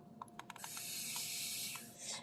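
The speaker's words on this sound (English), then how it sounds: "I just spray the moss every morning" A spray bottle mists the moss around a potted orchid: a few quick clicks of the trigger, then a steady, close hiss of fine spray that lasts nearly two seconds.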